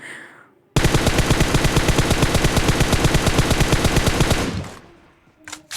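M416 and M24 gunfire in a video game: one loud, unbroken automatic burst of evenly spaced rapid shots lasting about four seconds, then a pause and a single sharp shot right at the end.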